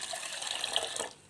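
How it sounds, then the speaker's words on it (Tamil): Toor dal lentils are rinsed in water in a kitchen, giving a brief soft splashing, swishing wash that runs for about a second before dropping away, fairly faint and with no talk. "நல்லா கழுவிட்டு ஒரு 2-3 வாட்டி தண்ணி விட்டு கழுவிட்டு ஊற வச்சுக்கலாம்."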